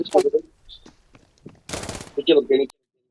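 Gunfire in a battle royale video game: a dense burst of shots in the middle, between stretches of a player talking over the action.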